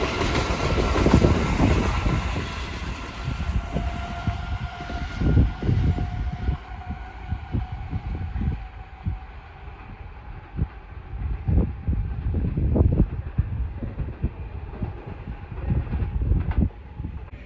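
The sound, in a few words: Class 387 electric train passing Hitchin station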